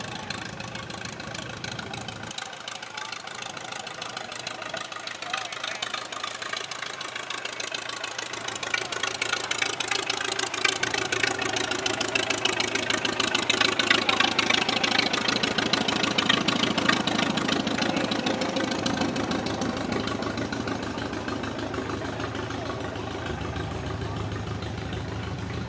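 A 1946 Minneapolis Moline DTU tractor runs at an antique machinery parade with a steady, knocking engine chug that grows louder as it passes near, then eases off. No speech is heard over the engine.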